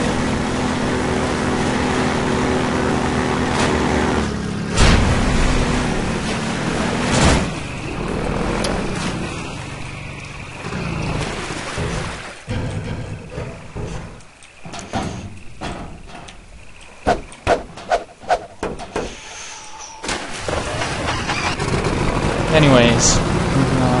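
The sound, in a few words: vehicle being driven in Half-Life 2 video game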